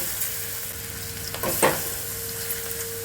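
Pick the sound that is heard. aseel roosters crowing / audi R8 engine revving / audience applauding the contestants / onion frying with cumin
onion frying with cumin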